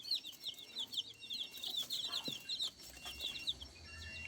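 Laying hens cluck and chirp softly on a chicken farm, a faint, repeated, fairly distant flock chatter over low background noise.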